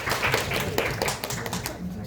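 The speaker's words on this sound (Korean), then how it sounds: "박수 한번 주세요 다시." An audience at a live magic show claps briefly, with sharp, uneven hand claps over a couple of seconds while people talk at the same time.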